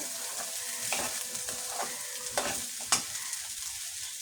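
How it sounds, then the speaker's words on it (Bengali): Rice frying in ghee for biryani, giving a steady close sizzle broken by several scraping stirs of a spoon through the grains, with one sharper knock near the end. "চাউলে আমি একটু সামান্য ঘি দিয়ে দিলাম। এখন এটা আমি ভালোভাবে কষিয়ে নেব।"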